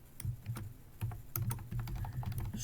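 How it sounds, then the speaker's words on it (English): Keys tapped on a computer keyboard in a quick, uneven run of clicks, close and fairly quiet over a low steady hum, with no voices. "So I would type something like"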